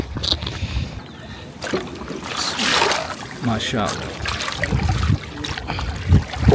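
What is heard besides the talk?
water from a stream being filled into a bottle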